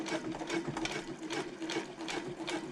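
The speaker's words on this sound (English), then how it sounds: "I'm about to start stitching on the upper contrast again." A sewing machine stitches a handbag liner, its needle hammering in a fast, even mechanical rhythm with a steady motor whir, close and continuous without pauses or talk.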